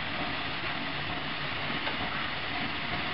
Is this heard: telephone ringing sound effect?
no